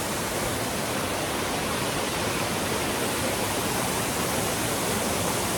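Gibbs Falls, a mountain waterfall on a hiking trail, a loud, steady full-band rush of falling water, close and continuous with no talk.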